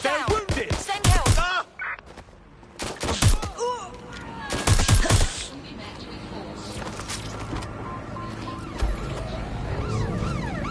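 Gunfire in the video game Watch Dogs Legion, loud sharp bursts and volleys of shots in the first half, alongside shouting voices and tonal game sounds, then a steadier busy din of action.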